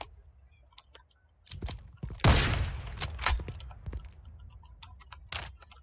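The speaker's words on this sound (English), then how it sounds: "he just shot me through this" Gunfire in a first-person shooter video game, a scattered run of sharp cracks and bursts with one louder, sustained volley near the middle, over a quiet background with no talk.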